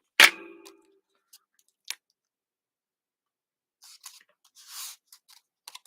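Scissors trimming a sheet of designer series paper on a crafting table: one crisp near snip, a couple of faint clicks, then a burst of soft rustling paper handling, all in a quiet room.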